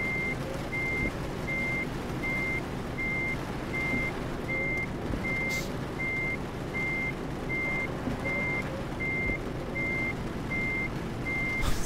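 Steady, evenly spaced reversing beeps from a truck backing up in Euro Truck Simulator 2, repeating about every 0.75 seconds over a constant engine rumble and road drone, with no talking.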